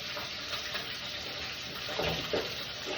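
Bread fries in a pan with a constant, broad hissing sizzle and a few soft bumps near the end.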